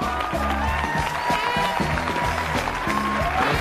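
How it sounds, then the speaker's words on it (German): Studio audience applause for a guest on a sitcom, loud sustained clapping with crowd noise and a musical tone underneath, filling the whole stretch. "Großen Applaus für Chris Spielman!"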